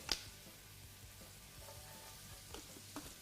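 Garlic sizzling in hot oil in a pan for a rib eye stir fry, a soft, steady crackling hiss with a few brief pops and clinks, close and quiet.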